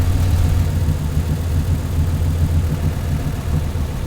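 A car engine idles steadily with a heavy, boosted low-frequency rumble, loud and close, holding an even drone throughout with no voices.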